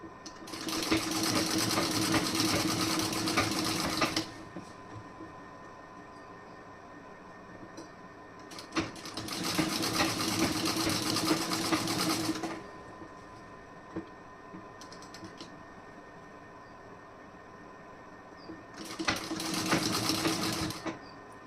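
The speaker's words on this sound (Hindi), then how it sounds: "यहाँ पे आप कच्ची सिलाई लगाएंगी इस तरीके से" A sewing machine runs a long basting stitch along a blouse, in three steady bursts of rapid mechanical whirring separated by quiet pauses, with no voices.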